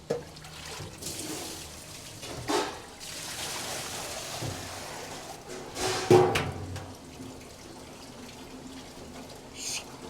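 Water drains from freshly rinsed, cloudy sushi rice through a rice net, giving a soft running trickle with a few louder splashy surges, heard close up and alone, with no one talking.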